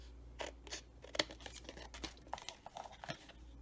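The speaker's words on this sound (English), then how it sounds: "So let me just cut my tag down a little." Scissors snipping a paper tag for a flip flop journal, a series of quiet, close crisp cuts and paper rustles in irregular rhythm.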